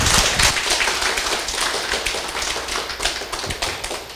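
Audience applause welcoming a lecturer at a legal-theory class session, a dense, steady patter of many hands clapping close by for about four seconds without a break.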